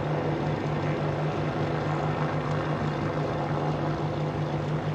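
A Boeing 787-9 Dreamliner jet on its first flight takes off, giving a loud, steady engine roar with a constant droning tone that holds without a break.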